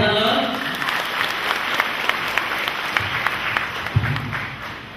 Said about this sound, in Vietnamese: cảm ơn quý vị bằng một tràng pháo tay thật lớn